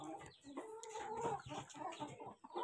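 Desi hens on a rooftop poultry setup cluck and murmur softly in a quiet, continuous stream of short calls, faint and close.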